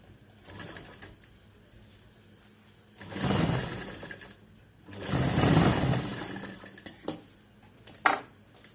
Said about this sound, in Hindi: देखिए हमने सिलाई इस तरह से लगा दिया है।